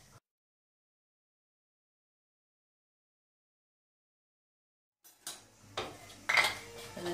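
A whisk or fork clinks against a bowl while egg, milk and amaretto are mixed, starting after a long silence with a few brisk metallic taps, close and fairly quiet.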